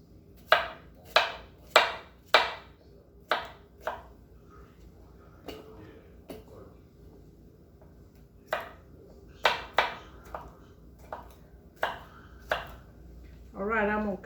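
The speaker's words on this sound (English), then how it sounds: "I'm cutting the zucchini up the same way" A knife chops zucchini into bite-sized pieces on a board: crisp, close cuts come in quick bursts of three or four, with pauses and faint background noise between them.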